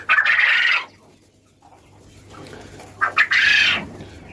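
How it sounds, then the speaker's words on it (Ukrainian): Young quail chicks hatched by dry incubation call in two bursts of high, busy chirping separated by a quiet stretch; the calls are close and fairly loud, with no talk. "Так, ну ось самі перепілочки."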